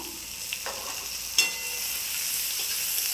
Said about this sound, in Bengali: পেঁয়াজটাও একটু লাল করে ভেজে নেবো